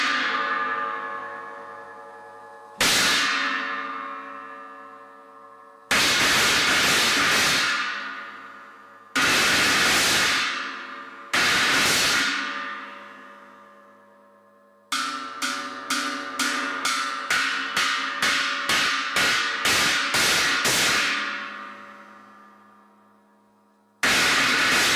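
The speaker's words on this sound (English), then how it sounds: "this is the Peisty 2002 Wild China 15-inch." A Paiste 2002 Wild China 15-inch cymbal struck on a drum kit, ringing out in loud washy crashes with long decays, followed by a quick run of repeated tight hits and one final crash, with no talk.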